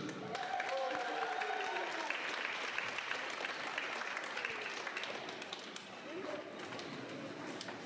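A graduation audience applauds a graduate, with sustained crowd clapping filling the hall while voices murmur and call out underneath.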